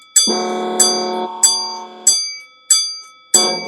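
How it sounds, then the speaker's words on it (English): A single bell rung by hand during a live online chat gives six bright, evenly spaced strikes about every two-thirds of a second, each ringing out and decaying, close and loud. "I'm going to do the bell for Container Man 68."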